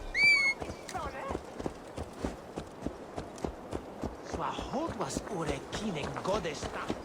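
Horse hooves clip-clop at a run through the Assassin's Creed Valhalla game world, a steady rapid rhythm of close hoofbeats that continues throughout, with a brief high whistle-like tone at the start and voices talking over it.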